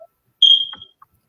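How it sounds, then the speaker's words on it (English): A fire alarm or smoke detector gives a single short, high-pitched electronic chirp indoors, clear and fairly loud against near silence, followed by a tiny faint blip. "And your fire alarm beeping?"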